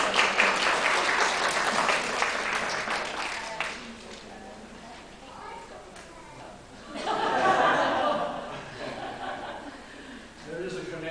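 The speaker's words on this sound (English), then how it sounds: "Could you give him a lovely clap?" A church congregation claps warmly after a young boy named Joshua is thanked, the applause swelling and fading with a second burst, mixed with soft chuckles and a speaking voice.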